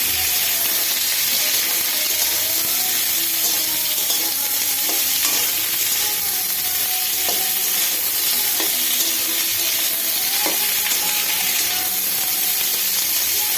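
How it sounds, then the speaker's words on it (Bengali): Bottle gourd stems and potato pieces frying in a pan, a loud, close, unbroken crackling sizzle with occasional scraping ticks of stirring throughout. "এবার তার মধ্যে লাউ ডাঁটা আর আলুটা দিয়ে দেবো এবার এটা ভাজতে থাকবে"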